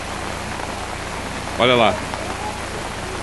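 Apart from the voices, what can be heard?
heavy rain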